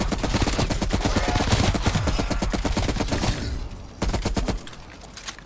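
Rapid automatic gunfire from a weapon in Call of Duty Cold War Zombies on Xbox Series X, a fast continuous stream of loud close shots that briefly drops off, then resumes in another short burst.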